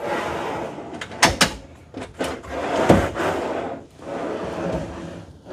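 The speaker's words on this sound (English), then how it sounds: "these you push in and then they release" Push-to-release pantry drawers in a Newmar Dutch Star Class A diesel pusher RV are pressed in and let go, giving a few sharp wooden clicks and soft thuds among light handling noise.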